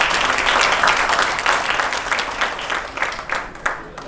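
Audience applause at a book publishing launch event in India, a dense sustained wash of clapping from a crowd that fades slightly toward the end.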